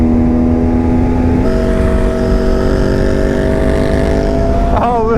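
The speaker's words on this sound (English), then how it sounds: "Oh, listen to that Ducati Scrambler." A Ducati Scrambler motorcycle engine runs steadily close by, a constant mid-pitched drone with a slight pitch rise at the end, heard alone without talk.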